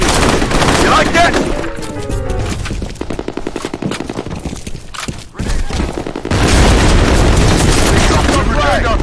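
Grenade blast in the multiplayer shooter F.E.A.R. Combat, loud booms amid steady automatic gunfire throughout a chaotic firefight, with a heavy burst near the end and voices in the mix.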